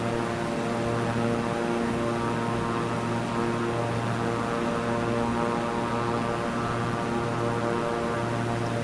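A Beechcraft propeller plane taking off in a flight simulator game, heard as a loud, continuous, steady engine and propeller drone with a constant hum that holds throughout.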